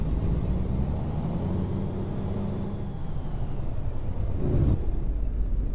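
Freightliner Classic XL truck in American Truck Simulator, a steady low diesel engine drone with rumbling harmonics, holding fairly even with a brief surge near the end, heard alone without talk.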